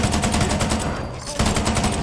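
Rapid automatic rifle fire from the ASM1 weapon added by the NRAW mod in Fallout 4, a fast string of loud close shots with a brief pause before the burst resumes.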